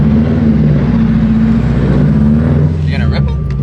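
Loud, steady drone from a car engine heard from inside with the windows down, holding a constant note before a short higher whine near the end.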